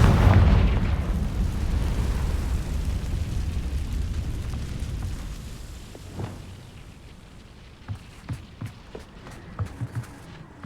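A Confringo blasting spell explodes in Hogwarts Legacy on PC, opening with a loud boom that rumbles off over several seconds, followed by a scatter of sharp, quieter pops and crackles near the end.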